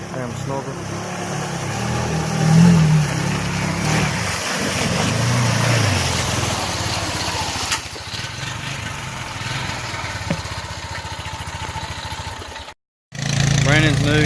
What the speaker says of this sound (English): Foreman TRX 450. He's got to fix the exhaust on it.